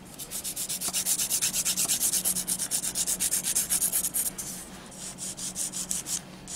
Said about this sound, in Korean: 베이직 실을 깔았기 때문에 이 밑에 갈리는 이 소리가 나요